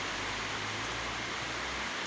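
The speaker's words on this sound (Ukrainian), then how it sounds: "Дощ." Rain falls in a steady, dense hiss that stays even and unbroken throughout, with a faint low hum beneath it.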